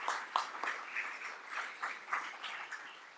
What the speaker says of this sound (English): we'll give you a little round of applause for your supports